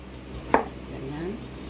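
A knife slices through a peeled potato on a board, giving two sharp, close cuts about a second apart against a quiet kitchen background.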